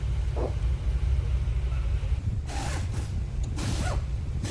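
A replacement blend door actuator motor is fitted into the plastic heater case of a Ford Edge and its screws are driven in. A few short plastic clicks and scrapes sound close by over a steady low rumble, with no talking.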